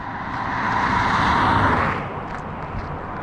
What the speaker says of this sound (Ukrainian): Ось їде бібійка на зустріч.